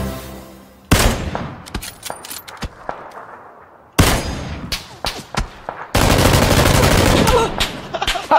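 Bursts of gunfire in a PUBG first-person squad match: loud sharp shots and rapid automatic volleys in three clusters, some close and some farther off, with a voice faintly underneath.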